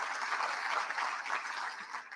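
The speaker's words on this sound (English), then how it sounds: "So let's just give them a warm welcome and round of applause." Audience applause for a student string quartet at a county address event, a soft, sustained patter of many hands clapping at a distance, fading slightly toward the end.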